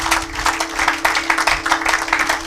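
A church congregation claps loudly together in a quick, rhythmic beat, each burst of hands landing close and strong over a steady low electrical hum.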